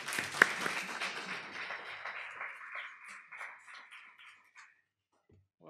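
Audience applause greeting a distinguished Lehman College professor before a lecture, a dense wash of clapping that thins and fades out over several seconds, ending in near silence.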